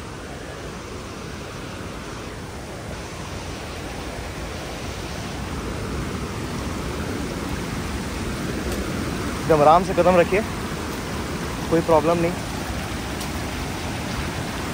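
Water runs steadily at a hidden waterfall after heavy rain, a constant broadband rush that fills the whole clip while people talk nearby and their voices rise briefly toward the end.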